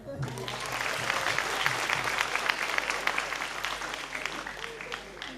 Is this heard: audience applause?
yes